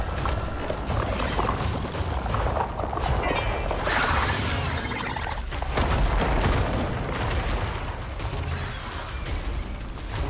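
Rapid gunfire from an AK-47-style rifle during a spider boss fight in a video game, loud bursts of shots and booms layered over dense, continuous game noise.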